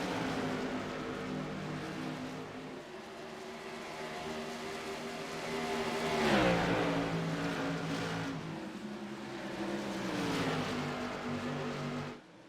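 Short track race cars roar around Iowa Speedway, a continuous droning engine chorus with one car swelling past mid-way before the pack sound settles again.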